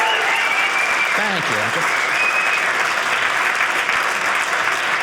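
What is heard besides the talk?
audience applause at comedy show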